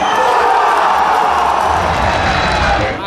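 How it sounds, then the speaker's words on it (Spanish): Stadium crowd roaring and cheering after a football goal in a Salvadoran league match between Atlético Marte and C.D. Águila, a dense, loud, continuous wash of voices sustained throughout without a break. "Aplausos y gritos para Kevin Melara y el tercer gol para el 16 naranja"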